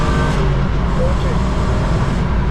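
A rental BMW cruises at light part throttle in fourth gear around the Nürburgring, a steady, loud engine and road drone filling the cabin without a break.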